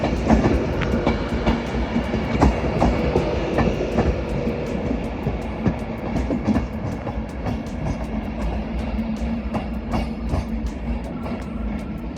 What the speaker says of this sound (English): 390 107 with a good old service to London Euston